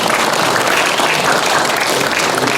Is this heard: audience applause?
yes